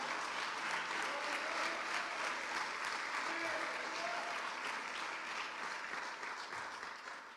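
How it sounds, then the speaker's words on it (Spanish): A church congregation claps in sustained applause of praise, steady and dense throughout, tapering slightly at the end, with faint voices mixed underneath. "Dele palmas de alabanza al Señor"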